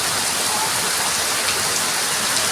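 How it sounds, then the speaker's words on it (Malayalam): Heavy rain pours in a dense, unbroken roar, steady and close throughout with no voices, during a windy downpour in Kerala. "കിടുകിടു മഴ"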